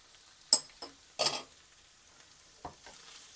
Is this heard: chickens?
no